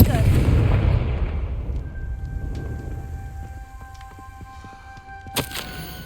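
A Confringo blasting curse from Hogwarts Legacy erupts in a loud booming explosion at the start, its rumble decaying over several seconds, followed by a sharp crack near the end.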